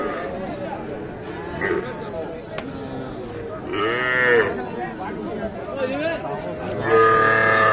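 Cattle moo repeatedly at a busy village livestock market in Bangladesh where bull calves and heifer calves are sold, the calls rising loud at intervals over a steady murmur of crowd voices and people talking.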